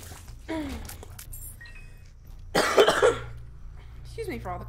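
Coughing sound effect in The Binding of Isaac: Rebirth, a short burst of rough coughs near the middle, set against steady game music and quieter talk before and after.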